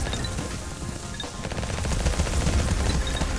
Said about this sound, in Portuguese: Olha os tiros, que louco.